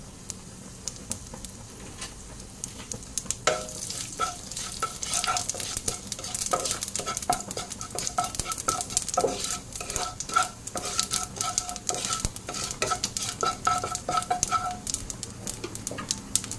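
Radhuni and black cumin seeds frying in a wok for shukto, a close crackling sizzle with rapid popping and stirring scrapes that grows busier after the first few seconds, with faint birdsong in the background.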